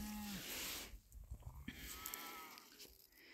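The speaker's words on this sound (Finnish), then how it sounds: "niin lehmät alkoi melkoisen reklamaation siellä" Cattle mooing out on a summer pasture, one long low call near the start followed by rustling and fainter animal sounds, with no talk.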